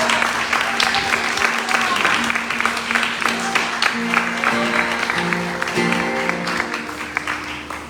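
A church congregation claps together during a worship service, a sustained wash of applause with music tones sounding underneath it.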